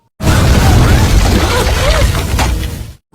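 A loud, deep bomb explosion roars and rumbles for nearly three seconds, then cuts off abruptly.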